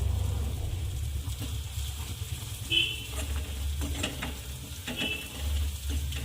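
Curry leaves and ground masala paste are stirred into frying yellow potato curry, producing a low sizzle with intermittent scraping and clanking of the spoon against the pan, close and moderately loud.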